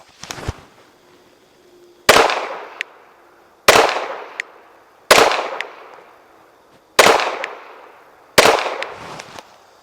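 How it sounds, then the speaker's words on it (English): Five pistol shots fired at a target 15 yards away on a shooting range, each a sharp loud crack with a ringing tail, spaced roughly one to two seconds apart after a brief earlier bang. "5 shots to the body from a distance of 15 yards"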